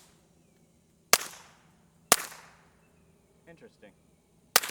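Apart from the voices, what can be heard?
suppressed rifle or pistol shots fired wet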